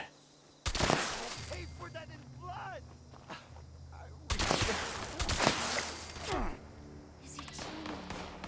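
Two heavy shotgun blasts boom out in Fallout 76, spaced a few seconds apart, each followed by a rumbling tail and scattered in-game clatter.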